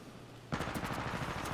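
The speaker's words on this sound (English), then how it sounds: "Okay, so we've got someone shooting at me, and I'm dead." Gunfire in the video game Titanfall 2 in online multiplayer: after a quiet start, a dense, loud burst of rapid automatic shots keeps going without letup to the end, with no talking over it.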